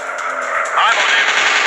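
Rapid machine-gun bursts from WW2 fighter planes in a mobile dogfight game, a steady rattling volley over droning aircraft engines, loud and continuous throughout, growing denser in the second half.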